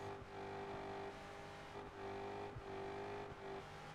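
Game car engine in Project Gotham Racing 4 holding a steady high-pitched drone at top speed, with faint brief dips.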